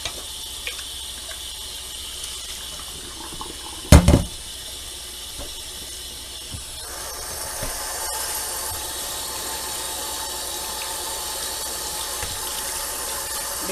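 Running hot water splashes steadily into a sink while rinsing beans, with a sharp knock partway through and the flow growing louder and fuller later on.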